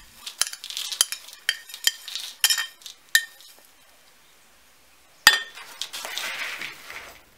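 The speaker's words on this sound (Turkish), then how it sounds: "Bu şekilde güzelce karıştırıyoruz." Crushed biscuit crumbs for a chocolate cake being stirred in a bowl, heard as a series of sharp clinks and scraping strokes from a utensil against the dish, a pause in the middle, then more stirring.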